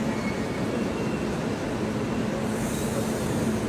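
A train rumbles at Kakinada Port railway station in the early morning, a steady close low roar of wheels and engine throughout with a faint hum, no voices.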